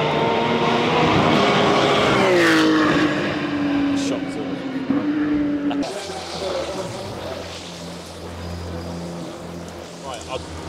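Race cars pass around a track with rising and falling engine whines that sweep by one after another, loud then fading into a lower rumble, with talk over the sound.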